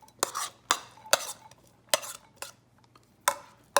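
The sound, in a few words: corn kernels put into a larger bowl for mixing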